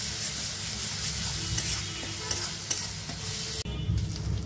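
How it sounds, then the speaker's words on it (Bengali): A paste of ginger, garlic and green chilli sizzles steadily in hot oil in a pan, a dense continuous frying hiss with occasional stirring scrapes, close and fairly loud. "আদা, রসুন, কাঁচা লঙ্কার পেস্ট 1 মিনিটের মতন ভেজে নেব"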